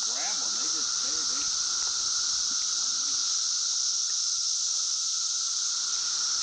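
Cicadas in a forest at the Morton Arboretum in spring drone in a dense, steady, high-pitched buzz that never lets up, with people talking faintly underneath.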